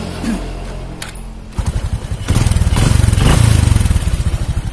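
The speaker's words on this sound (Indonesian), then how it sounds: "Lanjut kita nyalakan dulu mesinnya." A Honda Supra 125 motorcycle engine cranks and catches, then settles into a loud, close, steady idle with a rapid, even putter.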